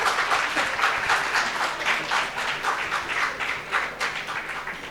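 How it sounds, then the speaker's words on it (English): An audience claps after a medical lecture on neonatal cholestasis, a steady, fairly loud wash of many hands that holds evenly for several seconds with no speech over it. "You want to clap?"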